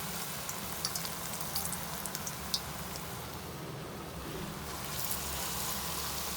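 Potato lachha pakoras fry in hot oil with a steady, low sizzling hiss and scattered small crackles and pops throughout, quiet and continuous with no voices.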